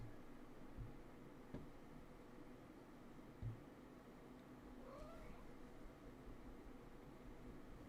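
A cat meows faintly and briefly, a thin rising-and-falling cry set well back behind a steady low hum of room noise, with a few soft knocks and no speech.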